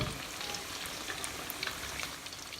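Chicken pieces frying half-done in hot oil on a stove burner that isn't fully hot, giving a steady, close, even crackling sizzle with scattered pops throughout and no talk.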